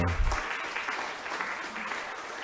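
Applause from a conference audience at an international research network meeting, a continuous wash of many hands clapping at moderate volume, steady throughout the short stretch.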